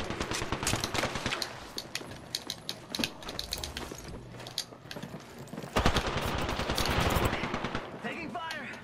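Rapid automatic gunfire from an Apex Legends match, loud and close, with bursts of rattling shots throughout and a denser volley in the second half, while a player's voice talks over it.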